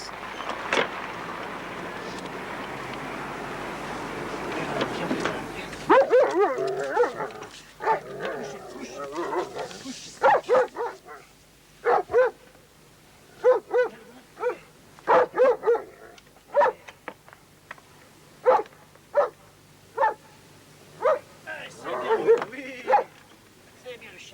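Rescue dog in training for disaster rubble search barks in a series of sharp, loud, spaced barks, with a few yips and whimpers, after a stretch of broad background noise and some talk at the start.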